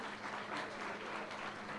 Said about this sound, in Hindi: पूरी जोरदार तालियां चाहिए मुझे पूरे